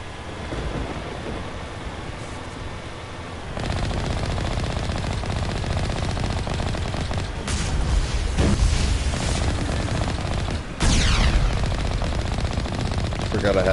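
Gunfire from a weapon in Mass Effect Legendary Edition rattles in sustained rapid bursts. It stays loud through most of the stretch, with a few heavier impacts mixed in.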